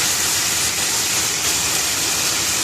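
Prawns frying in the oil left after browning pointed gourd, a steady loud broadband hiss and crackle of hot oil throughout, with no talking.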